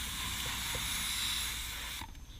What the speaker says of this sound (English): the first step we're going to do is we're going to spray down the wheel.